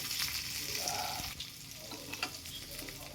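Chicken pieces frying in hot oil for a Kerala-style pepper chicken, giving a steady, close sizzle with faint scraping as the pieces are stirred and lifted out, no talking.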